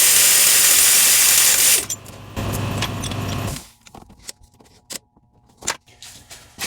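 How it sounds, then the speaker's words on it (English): A ratchet snugging down the top alternator bolts on a 2006-2008 Honda Ridgeline, starting with a loud, dense burst of rapid clicking, then a shorter spell of clicks, then sparse scattered taps and clinks. "I'm just going to snug these two top bolts down for now."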